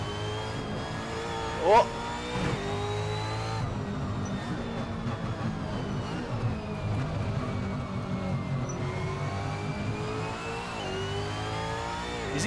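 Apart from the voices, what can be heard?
race car engine revving into rev limiter, Assetto Corsa video game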